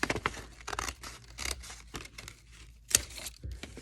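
Scissors cutting around a yellow paper shape for a Chanukah craft: a quick run of close, crisp snips and soft paper rustles in uneven rhythm, with one sharper crinkle near the end.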